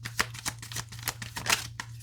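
Tarot cards being shuffled, a rapid series of crisp riffling snaps and flutters in irregular bursts, close and fairly quiet over a low steady hum.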